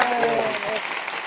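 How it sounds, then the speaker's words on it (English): Scattered hand clapping at an interview gathering, brief and fairly near, mixed with voices and crowd chatter over it. "Josh, go and give her a hand clap for this stunning."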